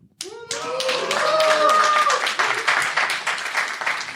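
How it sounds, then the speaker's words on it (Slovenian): Audience applause with clapping hands fills a live recorded podcast event on Slovenian genre comics, rising quickly into steady, dense clapping close and loud, with scattered voices mixed in. "Boljši aplavz na začetku."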